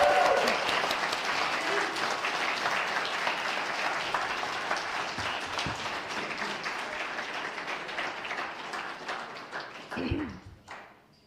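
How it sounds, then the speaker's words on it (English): A congregation applauding together in a hall, steady dense clapping that holds for about ten seconds before tapering off, with a few louder claps near the end. "the rest of us will give a heartfelt applause"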